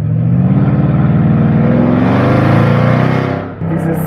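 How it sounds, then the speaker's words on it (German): Mercedes S500 Coupé biturbo engine revving loudly and steadily close by, with a rising high turbo whistle layered over the deep roar before a brief dip and recovery; a voice talks over it. "Dieses Pfeifen vom Biturbo und dann der Sound."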